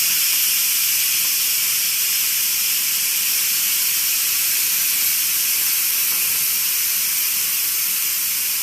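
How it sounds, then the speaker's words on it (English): An Instant Pot pressure cooker full of creamy mac and cheese slowly vents steam in a loud, unbroken hiss that lasts throughout, close by with no other sounds. "With pasta, release your pressure slowly."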